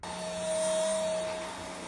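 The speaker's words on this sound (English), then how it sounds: "I'm going to vacuum my room and then show you guys what it picks up." A cordless vacuum cleaner runs over a bedroom floor, a steady loud whine with a constant motor hum throughout, no talking.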